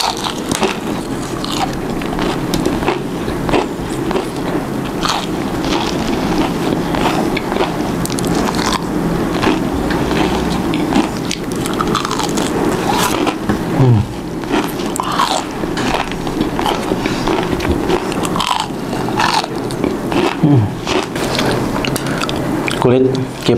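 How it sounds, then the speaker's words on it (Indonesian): Crispy fried chicken skin and crunchy K-pop style fried chicken being bitten and chewed up close, with repeated loud crunches and crackles over a continuous wet chewing texture. "Dengerin crispy-nya dari kulit crispy dan juga K-pop dari The Kriuk Fried Chicken."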